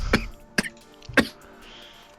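A person coughs three times in sharp, separate bursts spaced about half a second apart, close and fairly loud, then a quiet pause with no talking.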